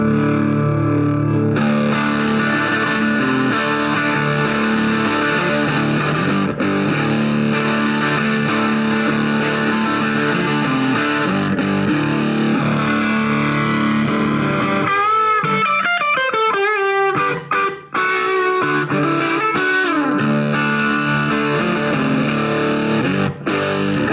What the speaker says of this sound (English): let's check out the second channel, which has been modified with different values in the tone section. And you'll see it has a lot more drive to it